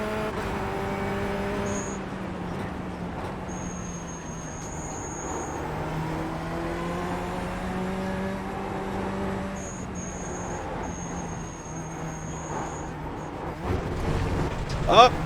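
Corvette C8 race car in iRacing lapping a circuit, a steady engine drone with shifting pitch bands through gear changes, brief high whine accents, ending in a louder burst; no talking.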